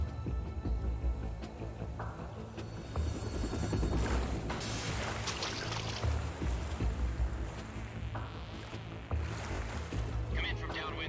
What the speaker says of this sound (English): A ver hasta dónde llegan los helicópteros.